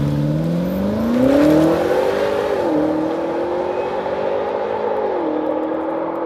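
A BMW X5 M Competition with a 4.4-litre 640 hp V8 accelerates hard. The engine note climbs steadily, dips briefly at gear changes and then rises again, loud and continuous with no talk.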